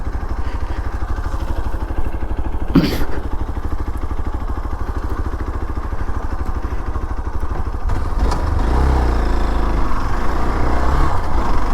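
A motorcycle is ridden at night, giving a steady, close engine drone with road and wind noise that grows louder and rougher for the last few seconds.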